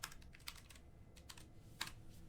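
Keyboard typing in a chat window, heard as sparse clusters of quiet key clicks with gaps between them over a low background hum.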